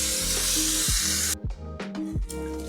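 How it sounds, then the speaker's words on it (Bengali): Pointed gourd (potol) frying with spices in a pan for chal potol, a steady loud sizzle broken by a few scraping stirs and clatters of the spoon against the pan. "এখন আমি পটলটা দিয়ে দিলাম, ভেজে রেখেছিলাম যে পটলটা, সেই পটলটা দিয়ে একটু কষিয়ে নিই"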